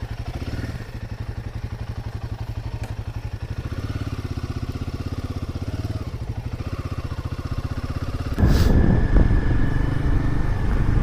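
A Royal Enfield Himalayan 450 motorcycle runs with a steady, pulsing mid-pitched engine note, and a louder surge and wind rush arrive near the end as it is ridden off.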